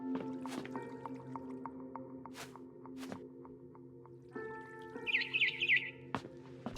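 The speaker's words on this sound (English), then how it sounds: "It was a barn swallow going back to her nest." Soft barn swallow chirps in the video game What Remains of Edith Finch sound alongside scattered drips and squishy clicks over a steady hum, with brighter chirping near the end.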